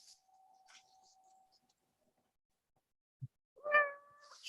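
A house cat lets out a single short meow near the end, close and clear, after a long near-silent stretch with a faint hum and a small knock.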